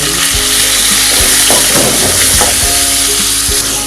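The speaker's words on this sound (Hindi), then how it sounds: "5 मिनट तक हम इसमें चिकन फ्राई करेंगे ताकि चिकन का मुकम्मल कलर चेंज हो जाए।" Loud, close sizzling of chicken frying in a pan, with bursts of crackle and scraping as pieces are stirred and moved.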